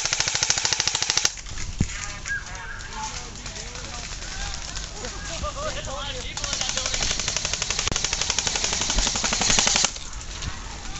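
Rapid bursts of airsoft gunfire crackle through an outdoor skirmish game at a combat field, with steady clatter throughout and louder volleys near the start and end, while players talk over the shooting.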